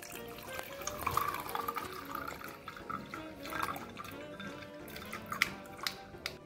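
Raw mango drink is strained into a glass holding ice cubes, giving a faint, continuous trickle with soft drips and splashes and small clinks throughout.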